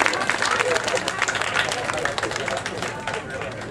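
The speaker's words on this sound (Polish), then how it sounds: "To jeszcze raz gorące brawa dla wszystkich uczestników." An audience at a Kraków dialect festival quiz claps warmly for all the participants, a steady wash of applause from a crowd, with a voice speaking over it.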